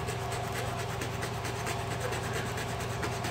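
Old 80 grit sandpaper rubbed by hand over a chipped spot in car paint, a steady close scratchy rasp with quick back-and-forth strokes, continuous and alone.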